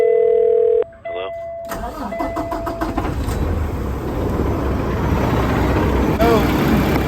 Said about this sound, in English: I'm gonna have T go in there and start the engine